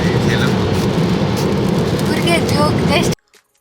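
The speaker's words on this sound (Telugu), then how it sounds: "ఫుల్ అంటే ఫుల్గా వర్షం పడుతుంది" Heavy rain pours outside in a dense, loud, steady rush of noise that continues unbroken for about three seconds, then cuts off abruptly into near silence.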